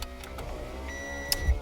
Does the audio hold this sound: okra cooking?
no